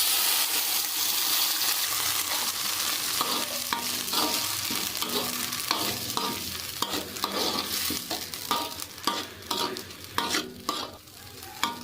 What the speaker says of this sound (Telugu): మనం వేసుకున్న మొత్తం మంచిగా ఫ్రై అయిపోయి ఇప్పుడు మనం మిక్సీ పట్టుకున్న పేస్ట్ని దీంట్లో యాడ్ చేసుకుందాం